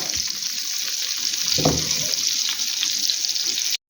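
Cutlets fry in a pan with a dense, bright, steady sizzle that fills the whole stretch, close and loud, with a soft knock partway through, ending in a sudden brief cut.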